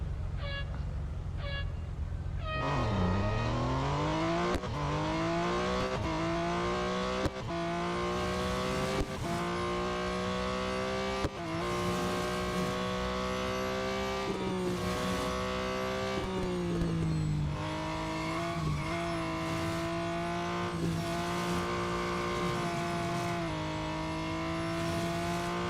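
A race car in the Real Racing 3 video game runs a Le Mans autocross, its engine droning and rising through repeated gear shifts with sharp upshift breaks, loud and continuous throughout.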